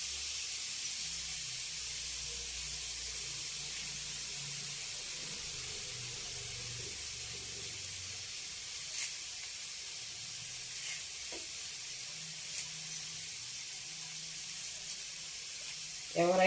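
Curry leaves sizzling in hot oil for foxtail millet upma, a soft continuous frying hiss with occasional small crackles and stirring, faint and steady, with someone talking quietly underneath.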